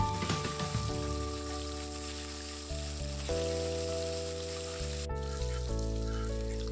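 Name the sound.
frying parshe fish in oil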